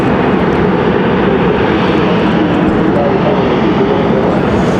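A Mesa Airlines jet arriving from Houston lands at Raleigh-Durham International, its engines producing a loud, steady, broadband roar that fills the whole moment without letting up.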